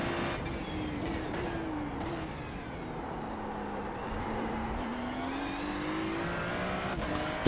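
Race car lapping in the iRacing sim, a continuous engine drone rising and falling in pitch through gear changes and corners, steady and close, with no talking over it.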